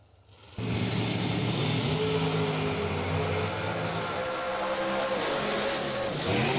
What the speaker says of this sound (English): race for the 40K. Dragster left side, believe that's Kayla, dialed in 480